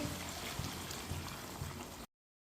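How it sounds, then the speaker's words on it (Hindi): A glass of water is poured into a pan of cooking turnips, giving a steady, close splashing gurgle for about two seconds before stopping abruptly. "एक गिलास पानी डाल लेंगे"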